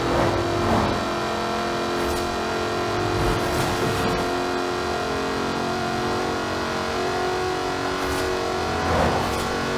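Jaguar Project 7 sports car in Forza Horizon 4, its engine droning at steady, loud revs throughout with a few brief surges, a continuous mechanical hum with no talking.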